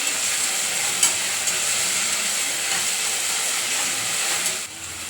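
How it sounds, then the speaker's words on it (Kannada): Tomato and onion frying together in a pan for vegetable pulao, a steady loud sizzle and hiss with a few stirring clicks, continuous and close with no talking. "ಟೊಮೊಟೊ, ಈರುಳ್ಳಿ ಎರಡನ್ನೂ ಚೆನ್ನಾಗಿ ಒಂದು ಹದಕ್ಕೆ ಬರೋ ತನಕ ಹುರ್ಕೊಳ್ಳಿ"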